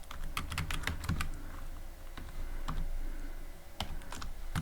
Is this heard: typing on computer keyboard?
yes